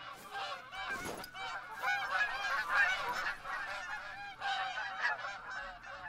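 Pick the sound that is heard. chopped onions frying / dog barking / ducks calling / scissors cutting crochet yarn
ducks calling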